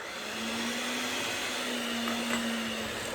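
An electric mixer beats butter with sugar for snowball cookies, a steady droning whir holding one pitch for a few seconds, moderately quiet and alone without speech.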